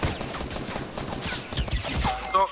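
Rapid gunfire in the battle royale video game Fortnite, a dense fusillade of crackling shots in quick bursts, loud and close, with a few sharper reports near the end.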